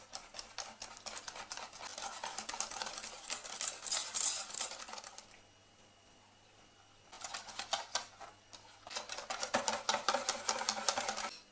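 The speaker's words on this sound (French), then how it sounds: "Puis on va ajouter le lait petit à petit en mélangeant entre chaque ajout." Milk being stirred bit by bit into batter for a magic rhubarb-hazelnut cake, heard as quick, rhythmic whisking ticks against a bowl that stop for a short lull midway and then resume, close and steady.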